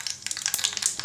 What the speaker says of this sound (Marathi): मोहरी घालूया